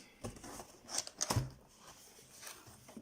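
A cardboard box holding an Anne Pro 2 keyboard with Kailh Box Brown switches is slowly cut and opened, giving a few close, quiet scraping slices and crinkling crunches with pauses between.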